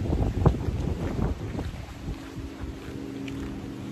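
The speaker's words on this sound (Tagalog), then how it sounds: "Malakas yung hangin, tsaka yung buhangin." Strong wind buffets the microphone on a sandy beach at Sandy Cove in British Columbia, loud rumbling gusts that are heaviest at the start and then ease into a steadier rush.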